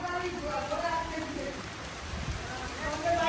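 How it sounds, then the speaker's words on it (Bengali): Big drops of rain falling outdoors, a steady close patter of drops hitting surfaces under a soft continuous wash, with people talking through it. "বৃষ্টি হচ্ছে"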